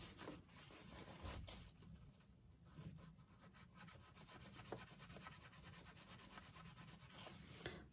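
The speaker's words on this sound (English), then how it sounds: "I'm just scraping across the edge here where I don't want the glue" A tool scrapes across a glued paper edge during a papercraft project, a continuous close, quiet rubbing with short repeated strokes.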